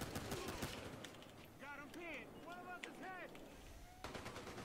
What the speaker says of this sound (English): I'm gonna shoot this camera out.